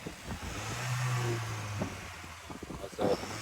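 A stock Volkswagen MK7 Jetta engine revs to around 3,000 to 4,000 rpm before any blow-off valve is fitted. It gives a steady low, muffled drone with slight swells, fairly close, plus a few faint clicks near the end.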